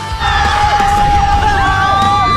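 A group of people shouting and cheering together on cue, loud, close whoops and yells rising at once and held through, with some voices standing out over the crowd.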